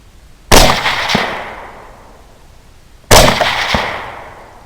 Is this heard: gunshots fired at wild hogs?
yes